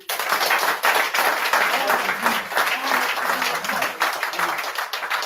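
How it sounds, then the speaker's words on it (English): Loud, close crowd applause for the chairman at a press gathering, a sustained burst of dense clapping with sharp individual claps standing out and cheering voices mixed in throughout. "One applause for the chairman."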